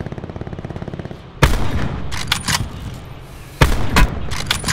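Loud gunfire in a shooter video game: two sharp bursts of rapid shots, each a crack followed by a clattering volley, standing out over a steady low game hum with no talking.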